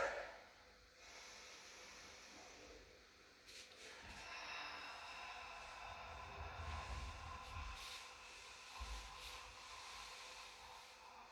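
Heavy breathing during a pilates exercise: a few slow, hissing breaths drawn in and pushed out, fairly faint against a steady background hiss.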